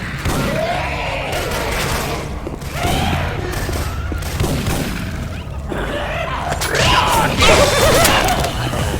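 Weapon fire from the Syphon Filter game swapped into Left 4 Dead 2: rapid bursts of gunshots and booming impacts come in repeated clusters over a dense, loud background of game noise.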